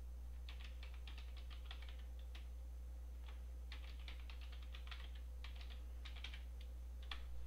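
Quick bursts of computer keyboard key clicks as a password is entered, soft and close over a low steady hum, with short pauses between groups of keystrokes.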